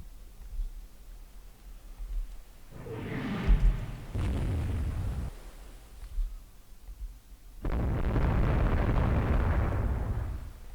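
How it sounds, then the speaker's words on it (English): Warship broadside fire in the naval game Rule the Waves 3, with 1890s-era French ships: two heavy, rumbling booming bursts separated by a short lull, each with a long rolling tail, loud and close with no talking. "Giving them a full broadside here, hitting them with everything we have."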